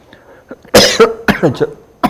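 A person coughs several times in short bursts during a math lesson, loud and close, with a brief throat-clearing-like rasp mixed in and no talk.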